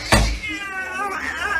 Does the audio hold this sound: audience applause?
no